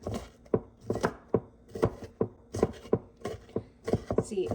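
A knife chops onions finely on a board in quick, steady strokes, about a dozen sharp close knocks in an even rhythm with no talking.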